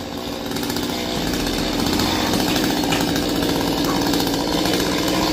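Chainsaw cutting down tall, thick king palm trees at the base in the Mekong Delta region of Vietnam, a loud, steady high-revving saw drone that runs unbroken throughout.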